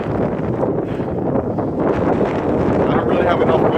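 Strong, steady wind buffets the microphone on the open summit of Big Bald, a mountain in Pisgah National Forest, North Carolina, reached from Sams Gap, with a continuous loud roar and gusts throughout.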